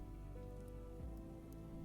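Warm rain falls steadily through a closed forest, a soft, dense hiss that stays even and unbroken the whole time, with no voices.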